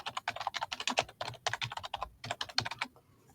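Quick bursts of clacking keystrokes on a computer keyboard as a folder name is typed, close and crisp, with brief pauses between runs of keys before a final tap and quiet.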